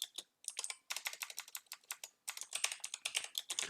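Rapid keystrokes on a computer keyboard come in quick bursts with short pauses, crisp and close, with no talking.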